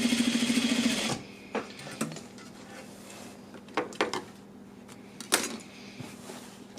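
A sewing machine stitches a pant front to a pocket bag in a fast, rhythmic mechanical whir lasting about a second, then stops, followed by scattered light clicks and fabric handling nearby.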